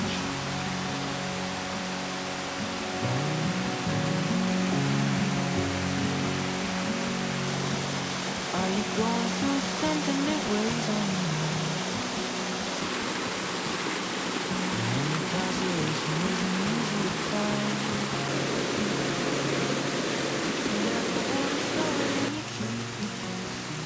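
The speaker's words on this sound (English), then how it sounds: "This location features a special waterfall, Shiraito no Taki, which translates to the waterfall of the white thread." Shiraito no Taki waterfall in Karuizawa, where spring water pours from underground as thin white threads, gives a steady, broad rush of falling water throughout, with faint voices or music drifting beneath.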